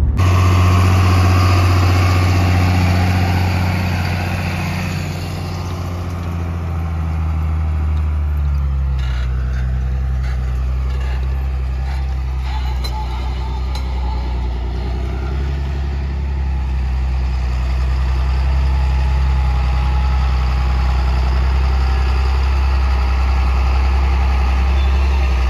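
A tractor engine runs steadily while planting corn in a South Texas field. The low diesel drone is loud and constant throughout, with slight shifts in load and no talk.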